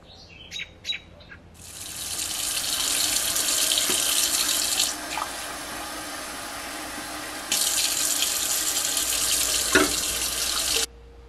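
Treated well water runs steadily from a tap into a glass with a bright hissing rush, briefly dipping midway, then stopping; faint bird chirps in the background.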